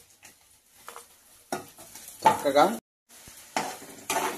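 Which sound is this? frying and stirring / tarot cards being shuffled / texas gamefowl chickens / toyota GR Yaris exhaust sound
frying and stirring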